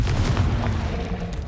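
A fiery Confringo blasting spell goes off in Hogwarts Legacy on PC, a loud, sustained low rumbling boom with dense crackling debris noise filling the whole stretch, steady in level without a clear decay and no voices over it.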